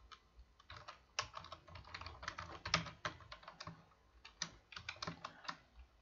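Quiet, close typing of Python code on a computer keyboard, an irregular patter of individual key clicks with a few slightly louder strokes, no voice over it.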